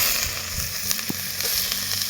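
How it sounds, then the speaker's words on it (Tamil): Chopped onions frying in gingelly oil in a pan give a close, steady sizzle with small crackles and pops, with no voices. "நறுக்கி வச்ச வெங்காயத்தை போட்டுக்கலாம்."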